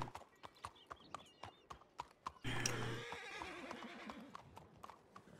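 Rhythmic hoofbeats clop steadily in a video game, then a loud horse whinny breaks in for a few seconds before the clip-clopping resumes.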